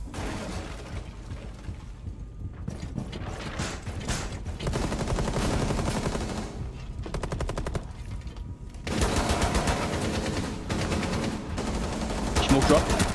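Gunfire in Rainbow Six Siege, with shotgun blasts among it, comes in dense, loud bursts and rapid volleys during a firefight on a yacht map, broken by brief pauses.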